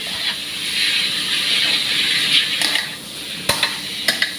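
Fresh pork and Chinese kale stir-fry in a hot pan with a steady steamy hiss, joined by sharp clacks of the spatula against the pan toward the end.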